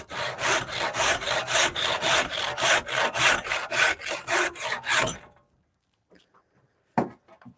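Hand sawing through wood in a shop, about fifteen rhythmic rasping back-and-forth strokes, loud and close, ending abruptly around five seconds, followed by near silence and a brief knock.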